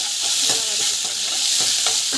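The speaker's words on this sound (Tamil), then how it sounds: "நல்லா வதக்கிக்கோங்க." Onion, green chilies, curry leaves, chana dal and garlic paste sizzle steadily while they are stirred in a hot pan, with soft scraping strokes over the continuous frying hiss and no voices.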